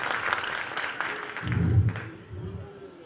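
Audience applause for a performer at a music show: scattered clapping in a crowd that fades partway through, followed by a low hum and some indistinct background sound.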